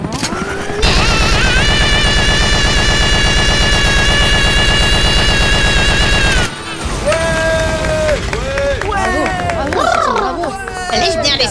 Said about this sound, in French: Nous avons cette mitrailleuse Gatling, monsieur.